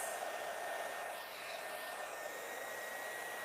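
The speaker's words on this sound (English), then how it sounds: "I'm going to use my dryer. I'm going to use the nozzle just to pull that hair up" A handheld hair dryer fitted with a nozzle blows steadily while drying hair in a salon, producing a continuous, fairly loud whooshing roar with a slight dip in airflow partway through.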